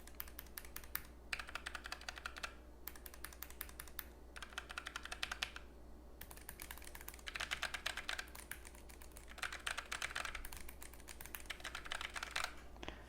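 Typing on a Logitech MX Mechanical Mini and a Keychron keyboard, bursts of quick, close clicks and clacks with short pauses between, slightly thumpy and hollow, over a faint low hum.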